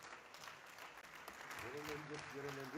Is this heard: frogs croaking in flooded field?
no